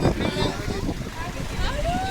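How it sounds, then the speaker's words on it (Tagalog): Gusty wind on Nikkas Ridge buffets the microphone with a constant low roar, while voices talk intermittently over it. "Grabe ang hangin dito, promise."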